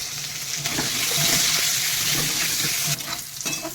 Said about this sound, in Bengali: এবার আমি ক্যাপসিকামগুলো ভেজে নেব